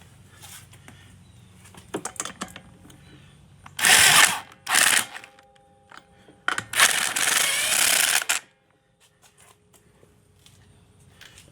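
Torque wrench tightening wheel lug nuts during a brake pad change, heard as two separate bursts of rapid ratcheting clicks, close and fairly loud, with quiet workshop clatter between and no talking.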